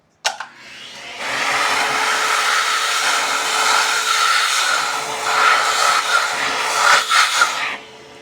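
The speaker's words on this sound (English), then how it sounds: "We'll loosen the table up a little bit and vacuum the holes out." A vacuum whines steadily for several seconds, loud and close, cleaning out holes drilled in a bowling ball, with a brief knock at the start and slight surging before it winds down.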